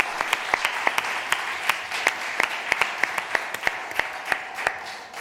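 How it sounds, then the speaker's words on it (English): A church congregation claps during a Sunday service, giving dense, steady applause with sharp individual claps standing out near the microphone. "Let's do one more round of applause for these folks."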